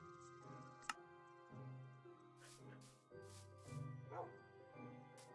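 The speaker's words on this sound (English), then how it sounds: "Dad, we have another dog." A Minecraft dog barks in short, quiet yips from a game, with music-like tones and faint ticks around them.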